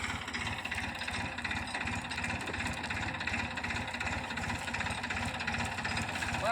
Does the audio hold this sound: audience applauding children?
no